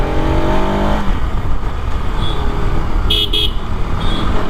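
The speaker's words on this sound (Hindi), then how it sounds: "दहाड़ देख रहे हो इसकी भाई, क्या ही खतरनाक दहाड़ है इसकी।" A Bajaj Pulsar RS 200 motorcycle on its stock exhaust roars loudly and steadily up close, a dense continuous engine drone with a brief rising rev at the start and a few faint high tones later.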